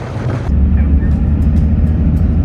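A car drives along the road on a rally trip, a loud, steady low engine and road rumble close inside the cabin, with a faint voice at the start.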